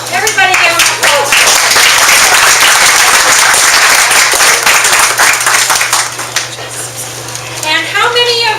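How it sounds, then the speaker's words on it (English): An audience at a launch event breaks into loud, dense applause that holds steady for several seconds before thinning out, with cheering voices near the end. "Everybody give them a applause."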